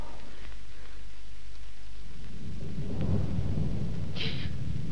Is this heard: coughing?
no